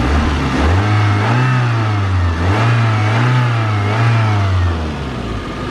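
A 1991 Toyota MR2 with a 2.2 liter four-cylinder engine is revved repeatedly, the close, loud engine note rising and falling in several smooth sweeps before easing back toward idle.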